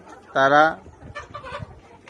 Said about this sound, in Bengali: আমার স্ক্রিনে যে লেয়ার মুরগিগুলো দেখতেছেন